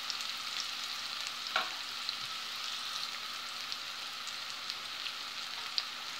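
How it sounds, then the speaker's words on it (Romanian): Food sizzling and frying in a pan during pasta-with-tuna cooking, a steady soft hiss with occasional small pops and crackles, fairly quiet and close, with no voices. "O lăsăm puțin să se undească, să se prăjească puțin,"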